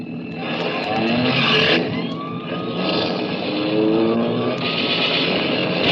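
A car speeds away during a radio drama getaway chase, with a loud, sustained engine roar and rising whine lasting throughout, alone with no talk.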